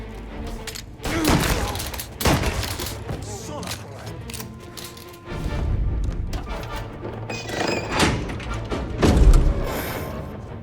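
A cutscene in a Mafia video game carries bursts of gunfire and heavy impacts, several separated volleys with crashes and thuds, mixed with voices talking and shouting between the shots.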